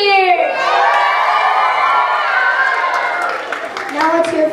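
Loud crowd of elementary school children cheering and shouting for the green team at a school holiday games event, a continuous high-pitched roar of voices that swells again near the end.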